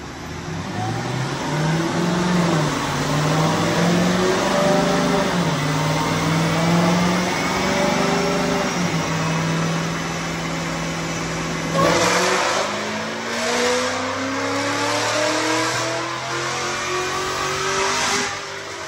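A Cadillac CTS-V with a Corsa Extreme exhaust making a dyno pull: a loud, close engine roar rising steadily through the gears, then dropping briefly and climbing again. No voices.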